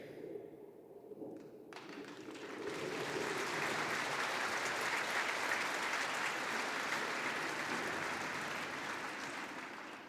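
Graduation audience applause at a university arts ceremony, starting from quiet murmuring and swelling into a broad, sustained roar of many clapping hands that holds steady for several seconds.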